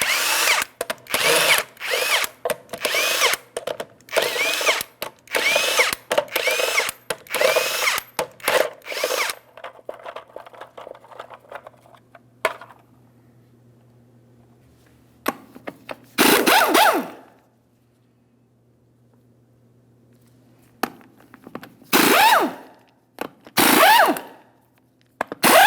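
A power tool spins off 22mm lug nuts from a 2007-2014 GMC Sierra 2500 HD rear wheel, firing a loud close series of short rattling bursts, then a quiet pause before a few more separate bursts.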